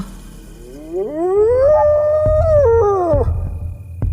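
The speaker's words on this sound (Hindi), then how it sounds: "ये तो वो हायना की आवाज है।" A single long hyena howl rises in pitch, holds, then wavers and drops away, loud and close, over a low rumbling background, from a Hindi cartoon.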